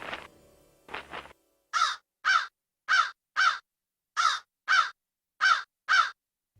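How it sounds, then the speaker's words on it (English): A crow gives a series of loud, harsh caws, starting with a few rougher calls and then settling into evenly spaced pairs of close, clear caws with silence between them. "Can you understand what this crow is saying, Birbal?"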